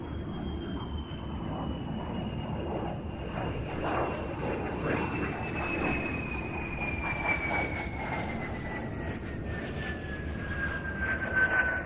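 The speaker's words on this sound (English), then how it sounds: "Love the sound of that Goblin engine." A de Havilland Vampire FB-52 jet fighter with a Goblin engine roars past in a long, steady air-show flyby, its engine whine slowly falling in pitch as it passes; no talking.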